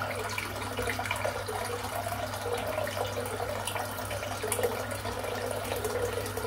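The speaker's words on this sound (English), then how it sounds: "we'll start filling the sink back up and just add some water to the place" Water runs steadily from a tap into a sink, a constant close hiss and splash that holds for several seconds with no voices.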